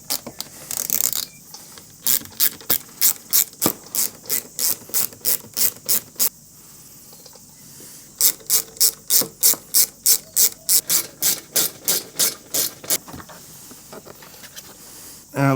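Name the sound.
removing T30 bolts from KTM 1290 Super Adventure panels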